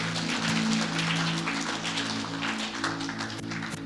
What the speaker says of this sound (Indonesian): Beri tepuk tangan untuk keluarga ini.